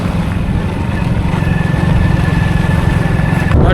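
A motorcycle being ridden on a village road trip, its engine a steady close low drone with continuous wind and road rush throughout.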